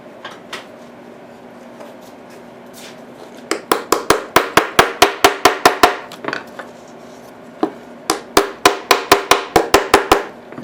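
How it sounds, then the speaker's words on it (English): A small hammer strikes a metal T-nut into wood in two quick, steady bursts of sharp taps, about a dozen blows each, separated by a pause with faint background noise. "Get a little hammer."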